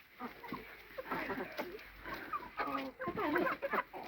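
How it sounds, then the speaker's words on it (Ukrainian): Several roosters cluck and chatter close by in quick, overlapping bursts, a busy farmyard flock sound with no people talking. "Спочатку думала, що то кури, ні, це півні."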